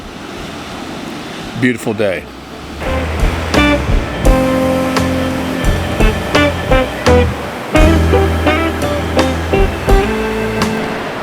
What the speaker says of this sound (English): The ocean's pretty calm.